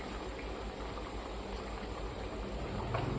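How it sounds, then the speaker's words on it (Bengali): Sour curry (tok) boiling in a pot on a home stove, a soft continuous bubbling hiss that stays steady and low throughout with no talk. "এদিকে টকটাও ফুটছে ভালো করে"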